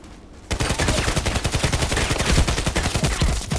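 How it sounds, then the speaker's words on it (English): Rapid automatic gunfire from a high-damage weapon in the shooter Contract Wars, a loud, dense burst of shots starting abruptly and continuing without pause for several seconds. "I'm shooting 6-7 times at him with a 50 plus damage weapon"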